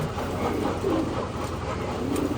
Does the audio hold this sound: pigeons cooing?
yes